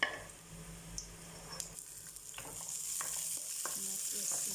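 Garlic frying in oil in a pan until brown for Filipino pinakbet: a continuous close sizzle with stirring scrapes and small pops that grows slightly louder toward the end.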